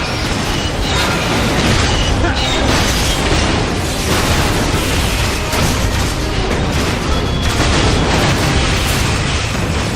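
A missile launcher fires in a Metal Gear Solid 4: Guns of the Patriots battle, a dense, loud, continuous barrage of booms, blasts and rumbling mechanical noise that fills the whole stretch without a break.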